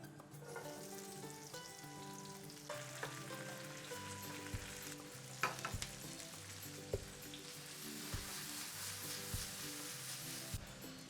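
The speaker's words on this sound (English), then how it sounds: "So the peppercorns are popping, snapping, and I can watch them jump in the pan." Peppercorns toast in shimmering oil in a pan, crackling and sizzling with scattered sharp pops and snaps over a steady tonal background.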